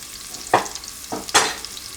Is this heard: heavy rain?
no